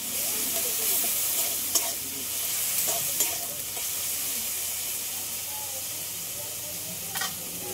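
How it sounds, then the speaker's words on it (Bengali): Boiled dal (lentils) is tempered in a pan, putting out a loud, steady sizzle and hiss with a few faint clinks and stirring scrapes, and no voices. "ডালটা এবার ফোড়ন করে নেবো।"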